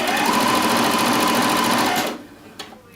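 A sewing machine stitches a dress facing, running steadily and loudly for about two seconds before stopping, followed by a couple of faint handling clicks.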